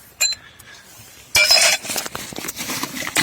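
A few sharp clinks of dishes and glassware being handled, brief bright knocks scattered over a quiet background.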